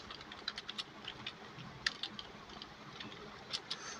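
Keys on a computer keyboard are typed in a quick, uneven patter of soft clicks, close by and fairly quiet, with no voices.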